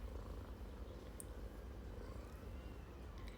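Soft, steady purring from a house cat, quiet and close, as a continuous low rumbling drone with no talking over it.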